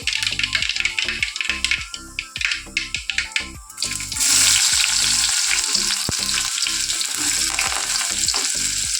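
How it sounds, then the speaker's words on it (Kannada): Mustard seeds crackle and pop in hot oil with intermittent stirring, then sliced raw onions go in and a loud, steady sizzle of frying takes over, close and continuous with no talking. "ಇವಾಗ ಸಾಸಿವೆ ಚಟಪಟ ಅಂತ ಇದೆ ಇವಾಗ ನಾನು ನೆಕ್ಸ್ಟ್ ಈರುಳ್ಳಿ ಹಾಕ್ಕೊತೀನಿ"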